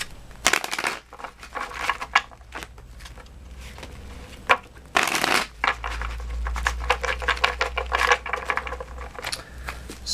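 Tarot cards being shuffled, repeated riffles and crisp card slaps in quick bursts with short pauses, close and fairly loud, with no talking.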